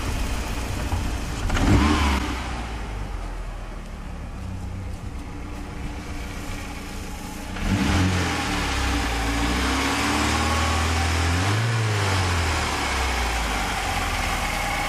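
A Saab 900 Turbo 16S with a two-liter turbocharged inline-four, running well, revs close by: a short burst near the start, then a longer rise and fall of rising and falling engine pitch over a steady idle, with no talking.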